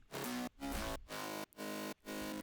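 A house music synth lead plays with the Duck Pro ducking plugin bypassed, sounding flat: four sustained, chopped chords separated by short clean gaps, loud and alone.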